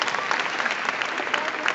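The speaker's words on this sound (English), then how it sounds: "Give yourselves a round of applause." An audience at a development bootcamp session breaks into dense, sustained applause, many hands clapping steadily for the whole short stretch at fairly close range.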